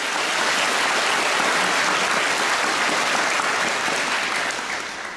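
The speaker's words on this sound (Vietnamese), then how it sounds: "cho một tràng pháo tay để lắng nghe" Loud, dense round of applause from a youth retreat audience at a Buddhist monastery gathering, even and sustained for the whole stretch before tapering slightly at the end, with no voices over it.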